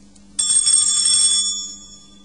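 A bright cluster of small bells tinkles suddenly, shimmering for about a second before fading away, heard alone with no voices.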